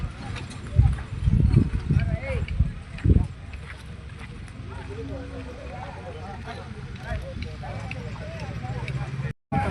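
Oxen being led through a busy livestock market in Gadag, with footfalls and clip-clop steps mixed into steady crowd murmur and chatter; a few louder bursts of activity stand out early, then a continuous bustle.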